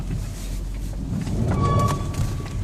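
A Mitsubishi Outlander III, recently started and not yet warmed up on a 13-degree day, pulls away in D over a low engine rumble, and a thin, sustained creak from the clutch rises out of the noise partway through.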